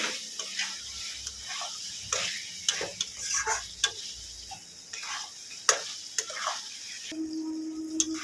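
Fried potatoes are stirred into a chicken curry masala frying in a pan, giving a series of sharp spatula scrapes and clicks over a low sizzle, close and moderately loud, with a steady hum near the end.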